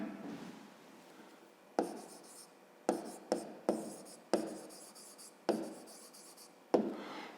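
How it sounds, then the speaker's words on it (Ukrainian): Pen or pencil writing out a solution to a grade 5 math word problem, a series of short scratchy strokes on paper with pauses between them, close and fairly quiet, without talk. "То тоді ми за умовою можемо записати, пишемо тоді."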